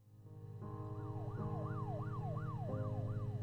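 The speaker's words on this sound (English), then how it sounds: "Okay, that time it was a siren." Siren passing outside, a steady wailing sweep that cycles up and down repeatedly, muffled and moderately distant over a low droning background hum.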